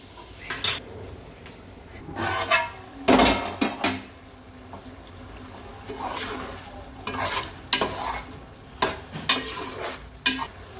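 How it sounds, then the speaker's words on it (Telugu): Mushroom and tomato curry simmering under a lid in a pan, with repeated clinks and scrapes of utensils against cookware and soft frying sounds throughout, no voices. "ఇవి దీని మీద మూత పెట్టుకుని ఒక 10 నిమిషాలు మగ్గించుకోవాలి."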